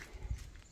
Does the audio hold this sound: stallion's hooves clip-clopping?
yes